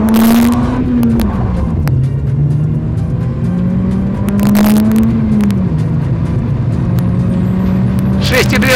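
Acura RSX Type-S front-wheel-drive car accelerating hard, engine note rising and shifting through gears in a steady loud drone, heard from inside the cabin with wind and road noise; a person talks over it.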